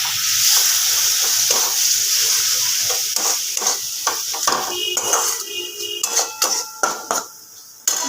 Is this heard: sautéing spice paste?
yes